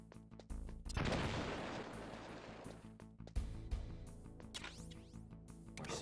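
C4 charges detonate in Metal Gear Solid on Dreamcast, two sharp blasts about two seconds apart, each followed by a rumbling decay under steady game music.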